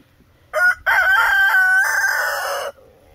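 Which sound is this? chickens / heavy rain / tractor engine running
chickens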